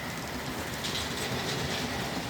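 A Hornby 0-4-0 model railway locomotive runs along its track, giving off a steady close rolling rumble with faint rhythmic clicking throughout.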